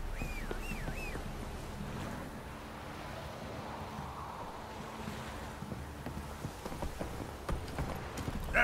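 Hooves of Roach, the horse in Witcher 3, clip-clop steadily under a wash of wind and distant surf, growing sharper and louder toward the end, with a short whistle-like call early on.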